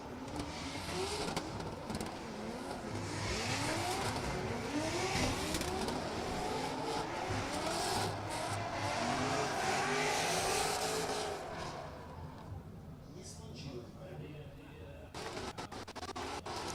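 Drift cars at a drift competition in Oman, including a red Ford Mustang, with engines revving hard and tires squealing for about twelve seconds before easing to a lower roar. Crowd or commentary noise sits underneath.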